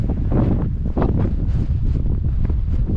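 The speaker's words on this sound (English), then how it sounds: "Because it is quite windy." Strong wind buffets the microphone on a beach during a fishing session, a loud continuous rumbling roar with gusty swells and no voices.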